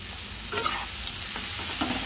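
Chicken being stirred and fried in a pan with onions and capsicum, with a steady close sizzle and occasional scraping stir strokes, no voices.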